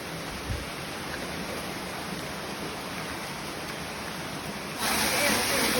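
Water flowing out of a cave over rocks makes a steady, rushing hiss, continuous and moderately quiet, swelling slightly louder toward the end.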